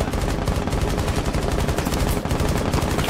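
Rapid, dense gunfire from the video game Rainbow Six Siege, loud and continuous bursts of automatic shots overlapping throughout with no talking.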